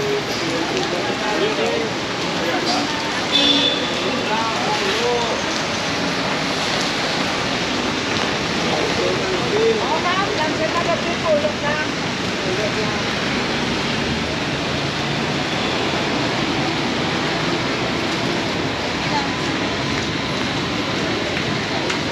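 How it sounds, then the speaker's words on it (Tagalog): Heavy typhoon rain pours down steadily in Bacolod City, a loud, continuous hiss of rain hitting surfaces with no break or let-up. "Grabe ang ulan."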